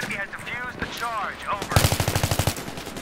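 Rapid automatic gunfire from the video game Battlefield 3, a loud burst of about a dozen evenly spaced shots following a stretch of game noise with a voice talking underneath.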